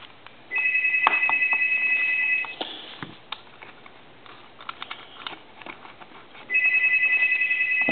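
Old Automatic Electric Monophone telephone bell ringing loudly in two long bursts separated by a pause filled with small tapping and handling noises nearby.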